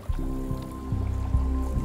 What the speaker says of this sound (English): the water's bubbling there and there